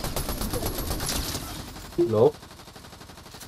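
Gunshots in the game Fortnite, a rapid stream of shots running steadily through the clip, with a person briefly speaking over them.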